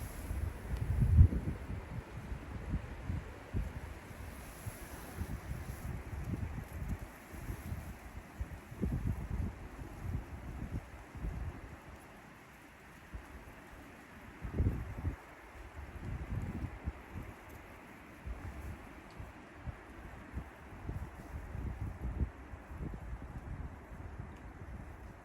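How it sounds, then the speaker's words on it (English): Wind blows through trees in the woods on an outdoor walk before rain, coming as uneven low gusts that rise and fall. The roar is mostly heavy rumble against the microphone. "listen to how windy it's getting"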